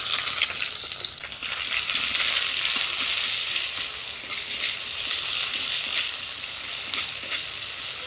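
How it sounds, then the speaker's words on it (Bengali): Chopped onion frying in oil with a dry red chilli, panch phoron and bay leaf: a loud, continuous crackling sizzle with small stirring scrapes, heard alone without talk. "পেঁয়াজটা ভাজা হয়ে গেছে"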